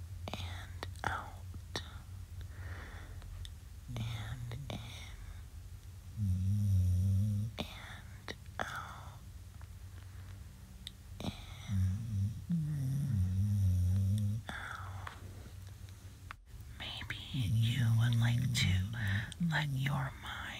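A puggle dog snores in slow, regular snorting bursts, close by, under a soft whispering voice that speaks throughout.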